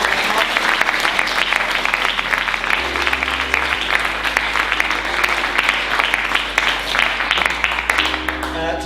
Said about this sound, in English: Please give Mark a nice round of applause.